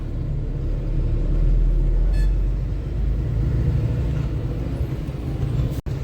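A car crawls slowly through a highway traffic jam, its low, steady engine rumble and road noise heard from inside, with no voices.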